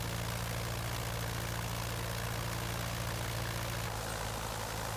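The engine of a Curtiss Jenny biplane in Microsoft Flight Simulator 2020 drones steadily at full power during takeoff, a loud, constant low throbbing hum with a slight shift near the end.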